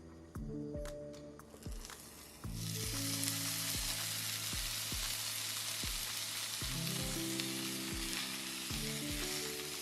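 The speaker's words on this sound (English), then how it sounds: "press your pork belly into the pan for maximum coverage" Pork belly sears in a hot pan with a steady hiss that swells louder a few seconds in, broken by occasional soft pops and a low background hum; no voices.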